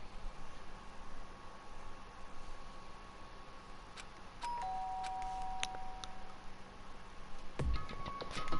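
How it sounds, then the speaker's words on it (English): Doorbell chimes ring in the Danganronpa video game, sounding twice as clear electronic tones over a quiet hiss, the second ring near the end landing with a short thump. "did I hear the doorbell?"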